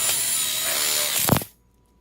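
A power drill drives a screw into a metal grill module frame for an outdoor kitchen, giving a close, loud whir that rises, ends with a brief tightening grind and stops abruptly into silence.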